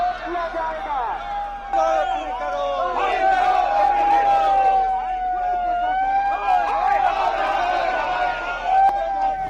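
An angry crowd shouting during a police mock drill, a dense roar of many raised voices, loud and continuous, with cries and yells rising and falling throughout.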